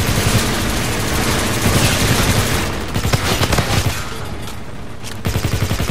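Rapid, loud gunfire in Call of Duty: Infinite Warfare, a dense stream of shots at first, then separate repeated blasts with brief gaps, close and dominant with game rumble beneath.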